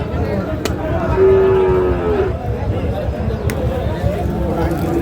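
A cow at a cattle market gives a drawn-out, fairly loud moo of about a second, surrounded by steady crowd noise and nearby voices talking.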